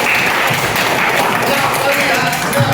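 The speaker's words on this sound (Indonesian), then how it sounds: "Tepuk tangan luar biasa." Fifth-grade class applauding together in a classroom, a dense steady patter of many small hands held at an even level for a few seconds, with children's voices mixed in.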